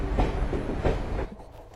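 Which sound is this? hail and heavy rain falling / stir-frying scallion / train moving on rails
train moving on rails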